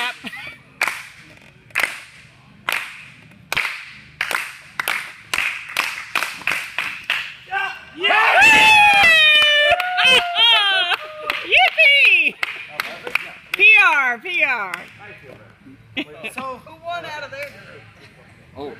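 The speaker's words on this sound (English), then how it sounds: "gotta clap again to get the same run?" Sharp hand claps ring out in a quick series, then voices cheer and whoop loudly before a few more scattered claps, all nearby.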